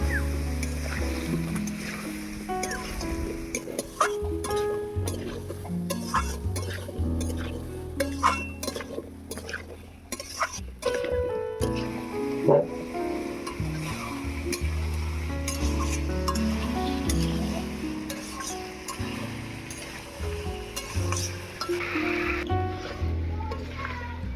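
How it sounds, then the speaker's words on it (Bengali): Potato, pumpkin and drumstick stir-fried in a pan, with a continuous sizzle and frequent scraping and clinking from the spatula. The sound is close and fairly loud throughout, and a voice talks over parts of it. "এবারে দিয়ে দেবো ধুয়ে রাখা আলু, কুমড়ো, সজনে ডাঁটা। এবারে ভালো করে কষিয়ে নেব।"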